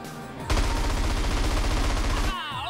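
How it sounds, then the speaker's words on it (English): Rapid automatic gunfire from an enemy shooter in GTA San Andreas, a dense continuous burst of about two seconds, loud and close, with a brief quieter lead-in before it. "now he's shooting me"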